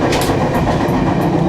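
A passenger train rolls along the rails with a steady, loud rumble and faint rhythmic clicking of wheels, heard from inside the car with no voices.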